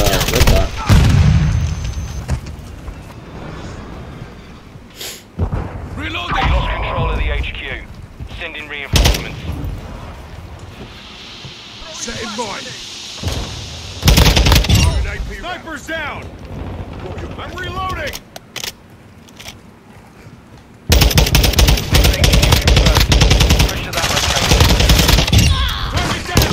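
Bursts of automatic fire from a TAQ-56 rifle in a Call of Duty match, loud rapid volleys and booms coming in clusters with brief quieter gaps, while a voice talks at times.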